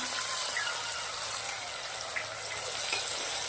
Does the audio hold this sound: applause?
no